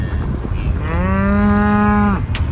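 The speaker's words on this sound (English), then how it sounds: "The cows are in the way." A single long, loud cow moo with a rich harmonic tone, lasting over a second, set against steady low rumbling background noise, near Badlands National Park.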